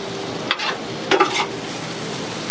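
Food sizzles and fries in a hot buttered pan while a utensil scrapes and stirs it aside in a few short strokes, close and steady, for a traditional British shepherd's pie.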